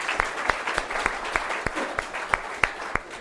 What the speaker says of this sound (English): So I think we ought to give a big clap for Dr. Tom.